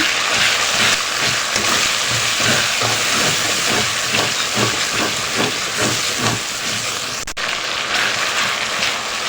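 Ground spice masala frying in a pan while cooking quail meat bhuna gives off a loud, continuous hiss with no talking.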